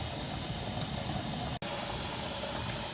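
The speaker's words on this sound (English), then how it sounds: "getting some steam off the pot" Steady, even hiss of steam rising off a pot of cooking pork butt, continuous and fairly quiet with one brief dropout midway, no voices.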